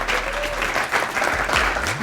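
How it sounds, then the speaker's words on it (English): A crowd at a real estate event claps in a brief, dense, steady round of applause at a moderate level. "So big round of applause."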